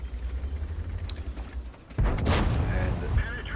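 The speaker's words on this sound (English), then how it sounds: "Puts another shell into the heavy Japanese tank." A tank cannon in World of Tanks fires a shell: a sudden loud boom about halfway through, followed by a rumbling tail, with quieter background battle noise before it and a commentator speaking over it.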